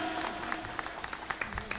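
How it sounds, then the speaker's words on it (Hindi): Audience applause at an award ceremony: a sustained wash of many hands clapping at a moderate distance, steady and continuous with scattered sharper claps. "जोरदार तालियां बजाते रहो भाई।"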